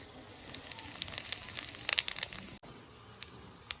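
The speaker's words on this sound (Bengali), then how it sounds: "আমি দিয়ে দিচ্ছি শুকনো লঙ্কা ফোড়নে ও সামান্য গোটা জিরে" Dry red chilies and whole cumin seeds crackle in hot oil after fish has been fried, with sharp irregular pops over a soft, steady sizzle.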